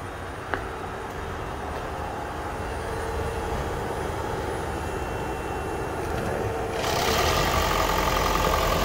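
A Toyota Prius engine runs after a flex fuel conversion for E85 and gasoline, a steady idling hum that swells noticeably louder near the end, with no talking.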